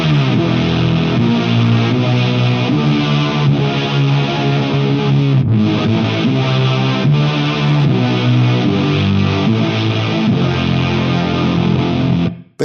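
Synth line run through an Eventide Knife Drop Jack White pedal, a dense, distorted, chorus-thickened tone sustained loud and steady for about twelve seconds before cutting off abruptly.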